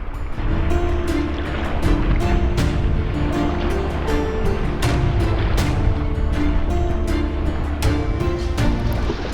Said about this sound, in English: Still a little easterly component in the wind and resulting chop breaking on the eastern shore.